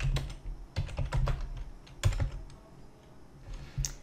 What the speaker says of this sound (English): I'm gonna type in an email address that I know isn't anywhere in my Teams and I've never typed in here before.